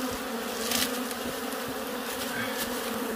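Bees swarming around a big old hive with honeycomb, a dense, continuous close buzzing drone that holds steady throughout with no voices.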